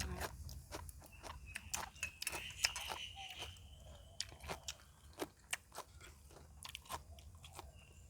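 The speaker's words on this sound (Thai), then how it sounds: "แรกเคี้ยวจะกรุบกรุบเลยนะครับ" Close, crisp crunching of chewy steamed tendon meatballs, with repeated bites and chews in an uneven rhythm and no talking.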